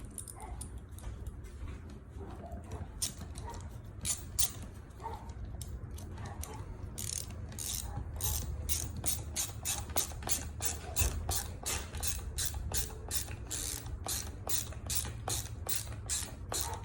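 A ratchet clicks rapidly and steadily at close range while screwing a part back onto a rifle. The dense mechanical ticking builds over a low background hum.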